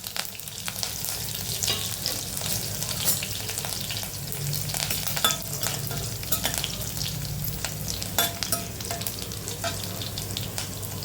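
Mustard seeds splutter in hot oil, a steady crackle and sizzle with sharp scattered pops throughout, close up and without voices.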